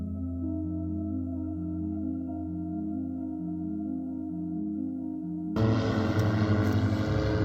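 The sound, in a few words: airplane passing overhead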